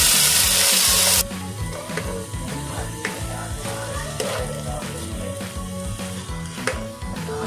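Ground onion fries in a pan with cumin and asafoetida, opening with a loud burst of sizzle, then settling into a steady crackle under repeated scraping and stirring of a spoon against the pan.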